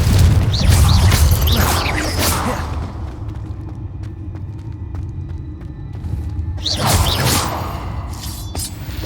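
A Confringo blasting spell explodes in Hogwarts Legacy, with a loud crashing boom and shattering debris up front, a rumbling tail with scattered crackles, then another burst of smashing impacts near the end.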